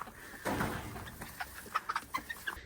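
Farm chickens cluck in short, scattered bursts at close range, with a brief louder rustle near the start, in a cold, freezing setting.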